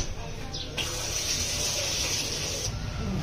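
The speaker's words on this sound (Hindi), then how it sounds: "इसको अच्छे से धो लेंगे" Peeled bottle gourd is rinsed under a running kitchen tap, with a steady gushing stream of water that briefly changes as the vegetable moves through it, fairly close and continuous.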